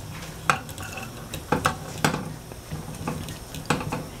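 Onion sizzles softly in a pan on a home stove while a utensil stirs it, with scattered scraping and clinking strokes over a low steady fry, fairly quiet and close.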